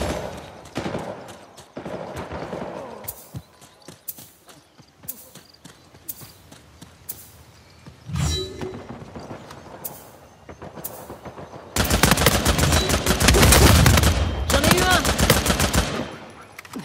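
Gunfire and grenade blasts in the video game Uncharted 4, with scattered shots, a loud blast partway through, then a dense, loud burst of rapid fire and explosions near the end.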